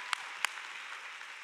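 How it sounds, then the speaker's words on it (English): Scattered claps ring out from a church congregation, with two sharp, distinct hand claps standing out over a soft, steady background wash. "We get clapped for that."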